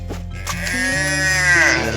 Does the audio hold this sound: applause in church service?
no